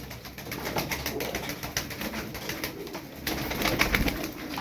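Fancy pigeons kept for sale coo softly, with repeated low throaty calls over faint background noise and no voices.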